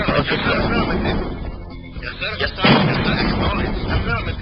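Loud bursts of gunfire and booming artillery from Command and Conquer: Red Alert fill the scene in dense, overlapping volleys with a brief lull midway, crowded and close under a busy battle mix.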